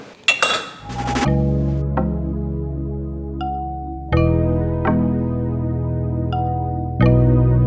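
Glass jam jars clink and ring out as warm runner bean chutney is potted up, several distinct bright taps with long sustained resonant tones decaying between strikes, close and clear with no talk.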